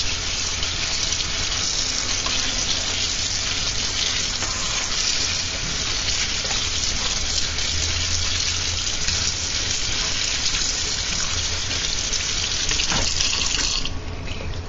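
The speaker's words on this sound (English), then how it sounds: "I kind of just rinse these off, clean them off, get all the stuff off." Steady running water from a hose splashing and pattering nonstop over vegetables being rinsed, a broad hissy wash with a brief clunk near the end.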